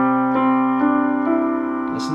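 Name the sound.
piano arpeggio played with sustain pedal down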